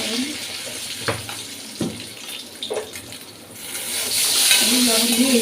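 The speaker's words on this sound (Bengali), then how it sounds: "লবণ দিয়ে এইভাবে একটু ভালো করে নাড়াচাড়া দিয়ে এটা আমি ভেজে নিচ্ছি।" Eggs fry in a pan with salt and turmeric while being stirred, giving scraping strokes and a soft sizzle that swells louder toward the end, with a voice briefly heard.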